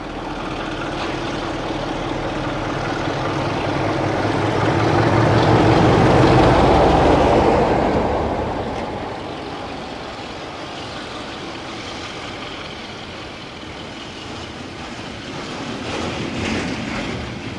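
A Crompton diesel locomotive hauls a departmental train out from Temple Mills, its engine rumble and rolling wagons swelling as it passes close by and then fading into a steady rattle.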